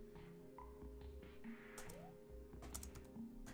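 Typing on a computer keyboard while entering a web search, a run of quick, light key clicks with some louder bursts, close by over a steady background hum.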